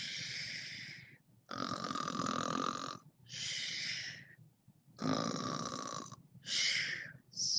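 A voice imitates a sleepy sloth snoring, with repeated drawn-out rasping snores separated by short pauses, close and fairly soft.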